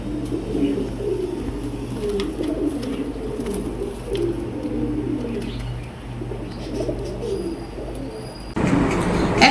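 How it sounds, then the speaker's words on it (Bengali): Several pigeons coo in low, rolling rhythmic calls close by, overlapping continuously against a faint background hum, ending with a brief louder rustle. "একদম সুস্থ কবুতর, ফ্রেশ কবুতর।"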